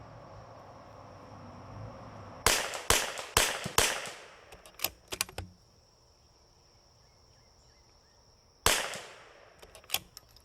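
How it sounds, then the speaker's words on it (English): A CZ 455 rifle firing a five-shot group outdoors: several sharp cracks in quick succession with short echoing tails, a pause with faint insects chirping, then a final loud shot and trailing clicks. "Let's shoot this last 5-shot group."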